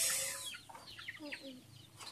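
A free-range mother hen that has just hatched chicks clucks faintly in a short series of soft, broken calls against quiet background noise.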